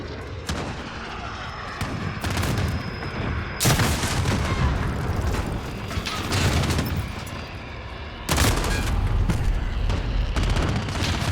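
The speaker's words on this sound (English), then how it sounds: "I think I managed to fire a single bullet there" Gunfire and heavy booms fill a Call of Duty-style battle, with a loud dense bed of shots and blasts that swells sharply at a couple of points.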